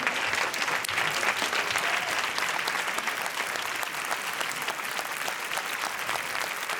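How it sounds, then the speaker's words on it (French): A theatre audience at the Cannes Film Festival applauds steadily as the film team enters, a dense, sustained clapping that fills the room without pause. "Vincent Lindon applauding his film director."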